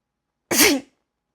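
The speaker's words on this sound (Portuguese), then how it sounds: "Eu vou espirrar" A single sharp, close human sneeze bursts out briefly and loudly, then stops abruptly into silence.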